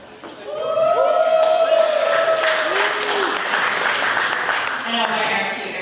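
Wedding reception guests cheer and applaud for the maid of honor, a sustained wash of clapping and whoops that rises quickly and stays steady, with voices calling out over it.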